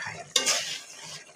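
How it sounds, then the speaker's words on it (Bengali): Meat being sautéed and stirred in a pan at an outdoor picnic cook-up, with a sharp scrape of stirring that sets off a brief burst of sizzling before settling into a steady, fairly close frying hiss. "কষানো হচ্ছে মাংস"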